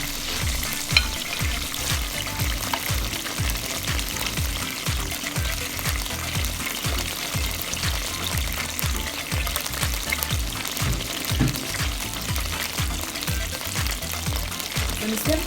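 Loud, continuous frying of chicken in a pan, crackling and sizzling steadily with rhythmic stirring scrapes throughout, no talking.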